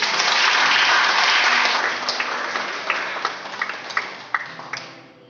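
Applause from a church congregation at a Sunday service, a dense wash of clapping that thins and fades into scattered individual claps toward the end.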